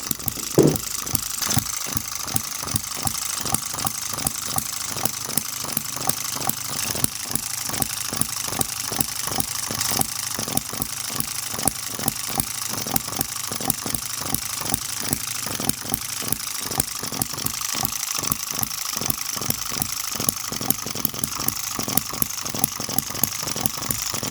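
A sturdy 2cc hit-and-miss model engine with a 1.5-volt ignition runs close by, firing in a fast, steady stream of sharp, even pops and mechanical clatter that keeps going without a break.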